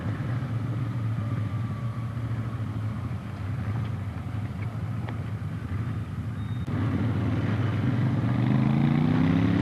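A Royal Enfield 650 twin motorcycle under way produces a low, steady engine rumble with faint wind noise. The pitch rises in a smooth sweep toward the end as the revs climb.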